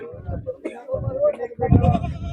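Goats bleat at a goat market in Tanaula amid trading, several short wavering bleats close by, overlapping and mixed with people talking nearby.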